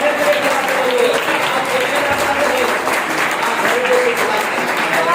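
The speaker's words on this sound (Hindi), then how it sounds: "जोर से ताली बजा करके" Loud, sustained applause from an audience at a Hindi religious sermon, dense steady clapping filling the whole stretch with faint voices mixed in.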